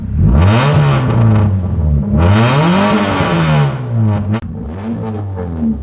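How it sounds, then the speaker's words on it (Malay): Car engine revving hard through a custom single blast-pipe exhaust, loud and close, rising and falling in several sharp throttle blips with a crackling rasp between them. "exhaust custom blast pipe"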